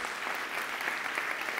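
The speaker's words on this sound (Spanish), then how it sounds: "vamos a dar unas fuertes palmas" A congregation claps together at a church service, a dense, steady wash of applause, fairly faint and continuous, with no talk over it.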